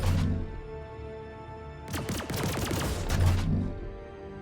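Attrition repeater weapons firing in the space game Star Citizen, a dense burst of rapid crackling shots lasting under two seconds, loud against a humming background tone.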